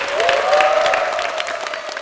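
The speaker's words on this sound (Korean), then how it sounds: "큰 박수로 맞아주십시오." A church congregation claps together in a dense, sustained round of applause that stays steady and fairly loud for its full length, with a held tone ringing beneath it.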